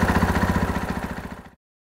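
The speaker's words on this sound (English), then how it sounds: "start this bike now. We'll double check the idle as it's warming up" A KTM four-stroke dirt bike engine idles while warming up, a steady close thumping pulse that cuts off abruptly after about one and a half seconds.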